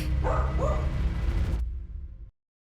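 A dog in an audiobook gives two or three quick close barks near the start, followed by rustling movement before the sound cuts off abruptly to silence.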